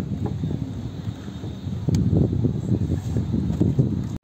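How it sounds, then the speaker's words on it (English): Strong wind buffeting the microphone in gusty rumbles on a roof, louder in the second half, with no clear talk. "It's very windy."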